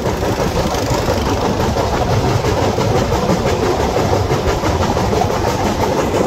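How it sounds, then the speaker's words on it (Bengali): A train runs onto the new Jamuna rail bridge, a dense, continuous roar of wheels and carriages with a rhythmic clickety-clack, loud and close throughout with no voices. "এবং কি আমরা নতুন রেল সেতুতে প্রবেশ করছি।"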